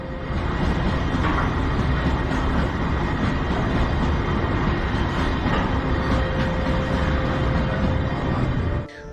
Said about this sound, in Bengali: একটা বিশাল মালগাড়ি চলেছে রাঁচির দিকে। তার ঝিকঝিক শব্দে জঙ্গলের নিরাপত্তা একটু ভঙ্গ হচ্ছে বটে